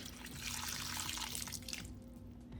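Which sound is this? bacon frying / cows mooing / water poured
water poured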